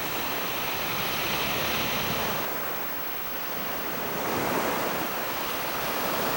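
Rough ocean waves crash onto rocky shoreline in the Galápagos, a dense, continuous roar of surf with a slight swell in loudness near the end and no voices.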